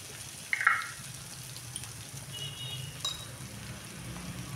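Spices fry in a pan for dal, a faint steady sizzle with a few soft clinks and pops, close and without talk.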